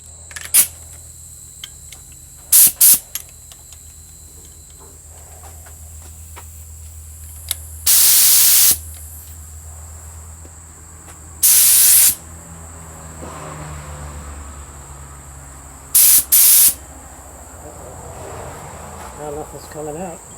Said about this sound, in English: we're going to give it a coat primer